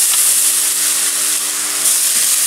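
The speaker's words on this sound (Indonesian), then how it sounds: "Oke, minyaknya udah panas, kita masukin cabe hijaunya yang kita blender tadi." Blended green chili paste hitting hot cooking oil for a spicy eel dish, giving a loud, continuous bright sizzle and crackle up close.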